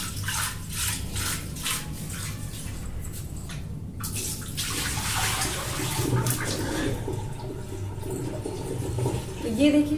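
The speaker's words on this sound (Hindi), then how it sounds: "तो मैं इसी पानी से इसको यहाँ पर धो लूंगी अच्छे से" A clay water pot, a ghada, is washed with water, giving close splashing, sloshing and pouring with irregular swishes throughout, while someone speaks over the water.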